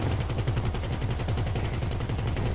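Helicopter door gunner's machine gun firing in GTA 5, a loud, steady rapid-fire burst of shots running the whole time.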